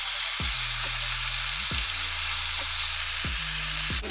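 Brussels sprouts and bacon frying in a pan for a keto Cajun meal give off a steady, close sizzle, with a low droning tone that repeatedly slides up and down underneath.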